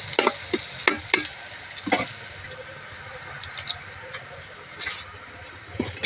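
Ginger, garlic and curry leaves sizzle steadily in a hot pan for a chicken curry, with sharp clinks and scrapes of a stirring spoon at irregular intervals, close by and with no talking.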